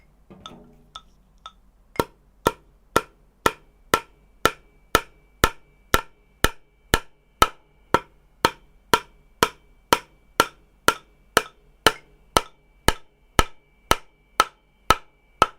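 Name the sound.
hammering in time with a 120 BPM click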